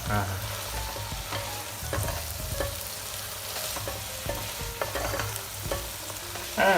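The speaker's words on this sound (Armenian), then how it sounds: "տապակենք այս ամեն ինչը, խառնելով պարբերաբար" Vegetables sizzle steadily in a hot pan while a spatula scrapes and stirs at irregular intervals, close and clear.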